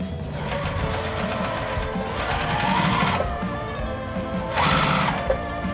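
Sewing machine stitching quilt block pieces together, a steady rapid mechanical whirring hum running the whole time with two brief speed-ups, close by and alone.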